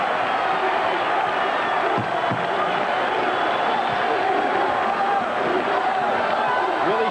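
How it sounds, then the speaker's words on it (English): A large basketball arena crowd at the 1994 Big East Tournament championship between Providence and Georgetown, a steady dense roar of cheering and noise with a commentator's voice running over it. "The crowd gets into it."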